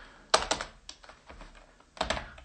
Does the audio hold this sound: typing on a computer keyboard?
yes